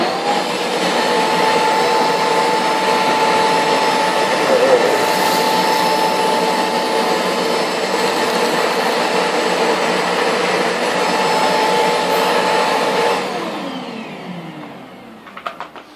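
A shop vac running in carpet mode over carpet, a loud steady roaring whine held for about thirteen seconds before it winds down and stops, close by with no talk.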